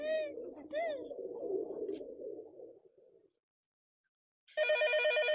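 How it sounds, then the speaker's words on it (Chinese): A telephone bell in a radio crime drama rings loud and steady, a fast electronic trill that starts alone after a short silence, following earlier talk and cooing pigeon sounds. "快听电话"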